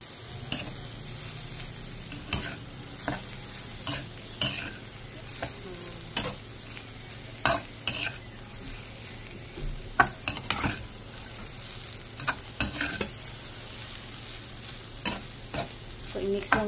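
Fried rice with egg and kangkong sizzles in a pan while a spatula stirs it, giving repeated scraping knocks at an uneven rhythm over a steady, fairly quiet frying hiss.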